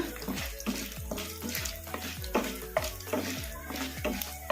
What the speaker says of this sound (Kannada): ಗೋಲ್ಡನ್ ಬ್ರೌನ್ ಕಲರ್ ಬರೋವರೆಗೂ ಫ್ರೈ ಮಾಡ್ಕೋಬೇಕು ಮೀಡಿಯಮ್ ಫ್ಲೇಮಲ್ಲಿ